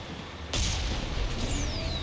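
A ship's cannon shot in the video game Mass Effect: a single sharp, loud blast that lingers in a sustained rumbling roar with a falling whine afterward.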